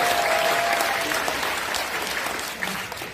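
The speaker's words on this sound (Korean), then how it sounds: "다시 한번 박수 한번 부탁드립니다." An audience at a political debate event in Seoul applauds in a steady burst of clapping for about three seconds, easing slightly toward the end, with no voices over it.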